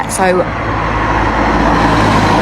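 Light road traffic passes at midday on a nearly empty UK road, heard as a steady broadband roar of a distant vehicle or two that swells slightly, with a brief voice at the start.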